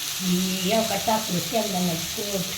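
Ground coconut masala paste sautés with a steady sizzling hiss in a pan of pumpkin cooked in fresh oil, while a voice talks over the frying throughout.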